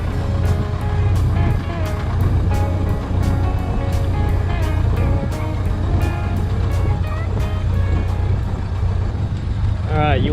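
A 1928 Ford Model A Phaeton engine runs steadily nearby, a continuous low rumble with even rhythm throughout, with talk faintly mixed in beneath it.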